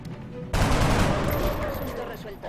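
Gunfire in the turn-based strategy game XCOM: Long War, a close combat specialist shooting a sniper: one loud sudden blast followed by a sustained, dense roar of fire that slowly thins out.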